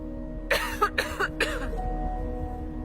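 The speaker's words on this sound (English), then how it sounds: "She coughed and cringed from the pain." A woman coughs in a short cluster of three or four harsh, pained coughs, close and fairly loud, trailing into quiet.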